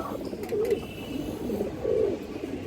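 Pigeons kept for sale coo softly, giving two or three low, rolling calls in quick succession against a faint background.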